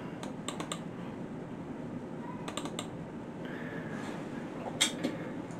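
A computer mouse clicks in several quick close pairs and clusters, sharp and light over a quiet background hum.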